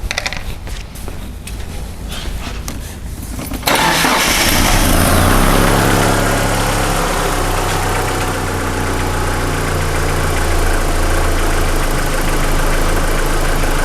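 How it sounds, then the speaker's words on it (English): A car engine, under diagnosis for a coolant temperature sensor fault, cranks briefly, catches around the four-second mark and settles into a steady, loud idle with a low, even rumble that holds for the rest of the clip. "we'll start the car again and we'll see the result"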